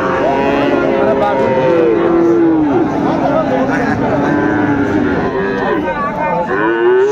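At a crowded livestock market in Dinajpur, Friesian and crossbred calves moo loudly and repeatedly. Several long, drawn-out lows overlap with the din of people talking nearby.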